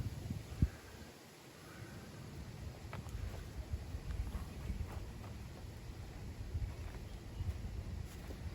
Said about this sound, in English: Look at that wind blow.